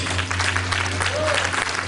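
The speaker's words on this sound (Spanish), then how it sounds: "Den ese aplauso fuerte al Rey de Reyes." Strong clapping from a church congregation during a Spanish-language sermon, a continuous dense burst of many hands with a low steady hum underneath and a faint voice rising briefly in the middle.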